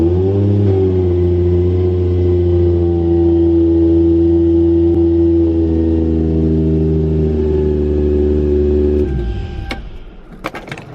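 A car engine, just after a boost solenoid fix, runs close and loud with a steady tone and a brief rise in revs, then shuts off near the end, followed by a few light clicks.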